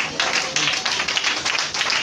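A church congregation claps together in a steady, quick rhythm of crisp, bright hand claps, fairly loud and close, with a faint murmur of voices underneath.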